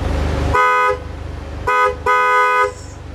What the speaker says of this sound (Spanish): Entonces, ¿cómo suena el claxon de un Jaguar XJ220? Pues vamos a escucharlo ahora mismo.